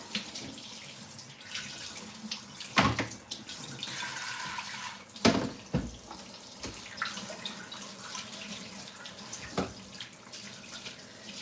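Kitchen tap running steadily at close range, a continuous wash of water with a few louder splashes and knocks against the sink, no talking over it.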